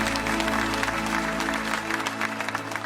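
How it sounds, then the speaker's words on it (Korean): Church congregation applause during a New Year's Eve worship service, a steady wash of clapping from many people over lingering organ or keyboard tones. "살아계신 하나님께 감사와 영광의 박수 올려드리기를 원합니다."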